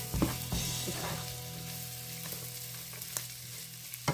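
Onion and garlic fry in a pan with a soft, continuous sizzle and occasional stirring scrapes and taps, quiet and close, with no voices.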